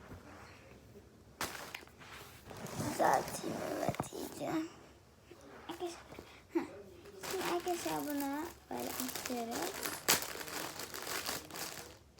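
Plastic packaging of a pop-it fidget toy being opened, with bursts of crinkling and crackling plastic between stretches of someone talking softly.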